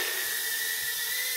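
Motors of an Eachine E011 tiny whoop drone, upgraded with an E013 FPV camera, whine in a steady high-pitched buzz with a constant tone, close and fairly quiet, unbroken for the whole moment.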